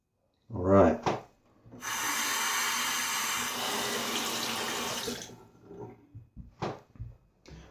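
A safety razor is rinsed under a running tap, a close, steady rush of water lasting a few seconds. Short knocks and handling sounds come before and after it.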